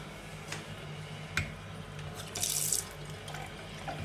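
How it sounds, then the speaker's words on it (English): Water runs from the hot and cold taps of a bathroom sink in short bursts, with clicks and a splash as the flow is turned on and off, fairly quiet with no talking. "Both the hot and the cold taps are working."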